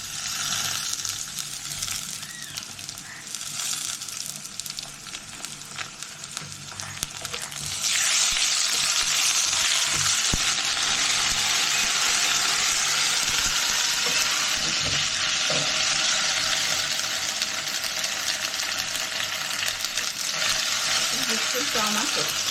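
Ginger fries in a pan for fish-head dal; a quieter stir and crackle gives way to a loud, sustained sizzle, with occasional scraping from stirring.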